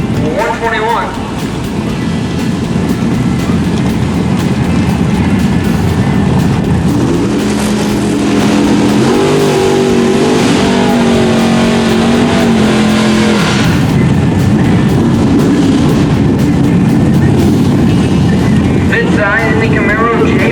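A Camaro drag racing car in the Super Pro bracket at the track, its loud engine roaring continuously and rising in pitch through a hard run, with a voice talking over the noise.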